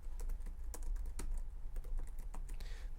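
Soft, rapid keyboard clicks while code is typed on a computer, a close continuous patter over a faint low hum, with no voices.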